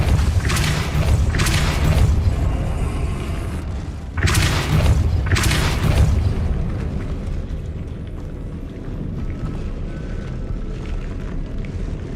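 Spell blasts in the video game Hogwarts Legacy on PS5, three loud, deep booming bursts in quick succession followed by a rumbling fade into a lower game ambience.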